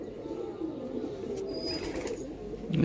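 A pigeon, a kalanka breed, coos low and continuously up close in a household loft, a steady murmuring drone with a louder rumble right at the end.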